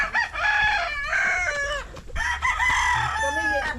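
A rooster crows loudly and repeatedly close by while chickens cluck around it, with occasional background voices, at a hillside hut on a mountain.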